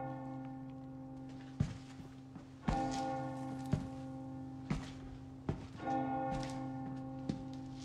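Church bell tolling inside the video game Resident Evil 4 Remake, with strong resonant strikes ringing out several times at uneven intervals over a sustained humming tone and light thuds.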